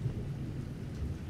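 A thunderstorm brings steady heavy rain and a deep continuous rumble of thunder, loud and enveloping throughout, with no voices.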